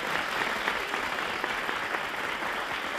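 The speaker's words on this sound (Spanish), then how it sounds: "Un aplauso para los tres." Studio audience on a Spanish television game show breaks into steady, dense applause that fills the whole stretch evenly, with no speech on top.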